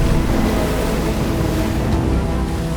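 Cruise boat on windy water at Milford Sound, New Zealand, giving a steady, loud rumble of wind and engine with the wash of waves, continuous and close, with no voices.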